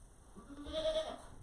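A mother goat bleats once after her kids were taken away, a single faint, wavering cry roughly half a second long, heard from a distance over a quiet farmyard.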